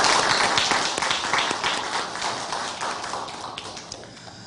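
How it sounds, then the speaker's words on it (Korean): Audience applause for a church choir, orchestra and arranger in a university chapel service, a dense steady wash of clapping that fades slightly toward the end, no voices over it. "우리 성가대 또 우리 관현악 우리 또 편곡해주는 우리 작곡가 친구들 우리 감사의 박수 하겠습니다"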